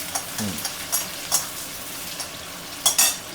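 Onions sizzle and are stirred in a pan for chicken chow mein, a soft frying hiss broken by intermittent scrapes and clinks of a utensil against the pan, with no talk.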